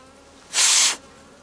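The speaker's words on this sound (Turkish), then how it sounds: "Şimdi onları beslemek için içeriye işçi arılar bırakıyoruz." A short, bright burst of worker honeybees buzzing swells up close for half a second as they are released into a bee cage, then fades, leaving a quiet background.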